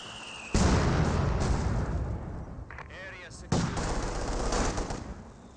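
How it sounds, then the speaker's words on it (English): Mortar barrage in the World War II strategy game Company of Heroes 2: two heavy, loud explosion impacts with rumbling decay, and faint distant gunfire between them. "Mortar barraging this location."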